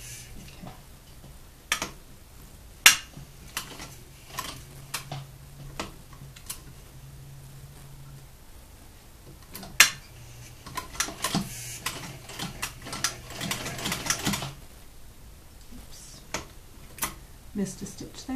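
A sewing machine stitches a gimp buttonhole, partly turned by the hand wheel, giving soft irregular ticks and clicks with a faint low motor hum in places. A voice talks throughout.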